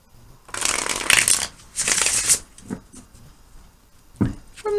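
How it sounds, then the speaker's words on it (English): Tarot cards riffled and shuffled by hand in two long, brisk bursts, then a few softer shuffles and a short final flick, close and alone with no talk. "I have pre-shuffled, but I like to finish up the shuffling"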